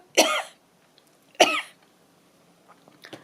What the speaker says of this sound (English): What was I saying about the cough not being so bad now?